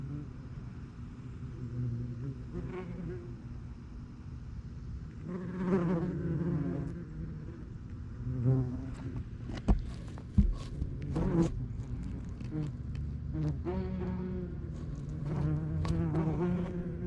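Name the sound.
bees buzzing in a nest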